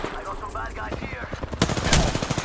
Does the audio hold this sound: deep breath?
no